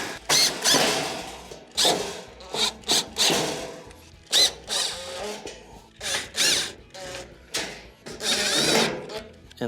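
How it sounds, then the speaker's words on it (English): A power screwdriver driving Phillips screws back into the panel of a Samsung stove during a broil element repair, repeated short whirring bursts, loud and close, separated by brief pauses. "go around the perimeter and replace your Phillips screws that hold it on."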